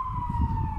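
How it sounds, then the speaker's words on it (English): A fire engine siren wails steadily, a single sustained tone sliding slightly lower as the truck passes, loud and fairly close over low road rumble, with no one speaking. "Oh, it's a fire engine, okay."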